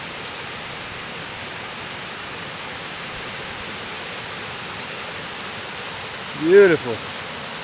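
A small waterfall at a campground in Fresno County makes a steady, unbroken rushing hiss, close and uniform throughout, with one brief spoken word near the end.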